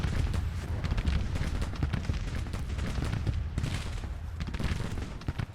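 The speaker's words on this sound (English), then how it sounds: "There's a volley by Wingo. Nice volley." Musket volleys in the Civil War strategy game Grand Tactician crackle as rapid, overlapping gunfire bursts with rumbling booms, dense and continuous across the whole stretch, with a sharper cluster near the middle.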